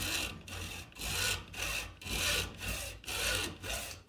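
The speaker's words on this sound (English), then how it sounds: "And then you're gonna run the saw" A saw rasps back and forth in a steady rhythm, about eight quick strokes through a Glock pistol's polymer frame, close by with no talking.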